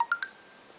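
A Nokia Lumia 625 phone plays its calendar alert: three quick rising electronic chime notes followed by a faint sustained ring, soft and alone.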